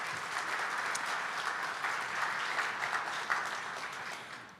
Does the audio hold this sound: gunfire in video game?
no